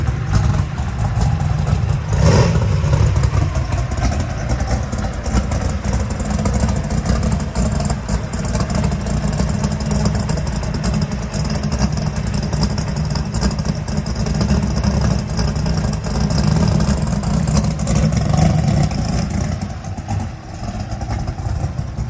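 A car engine with a not fully welded exhaust runs steadily and loudly on a test drive, a deep low rumble rising slightly in pitch as it revs, with faint rattling throughout.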